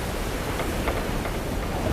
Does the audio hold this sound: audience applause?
no